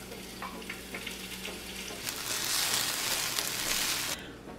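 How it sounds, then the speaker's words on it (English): Red onions sautéing in olive oil in a sauté pan give a moderate frying hiss that builds partway through and then cuts off abruptly near the end, with no talk. "While the onions are sautéing"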